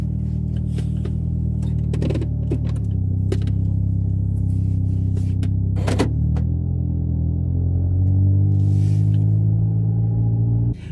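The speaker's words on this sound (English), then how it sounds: "this car does have an entirely new aftermarket muffler system, so it should sound pretty good" A 2005 Ford Focus ZX4 with an aftermarket muffler exhaust runs at idle, giving a loud, steady low rumble that rises slightly with gentle revs, with a few sharp clicks along the way.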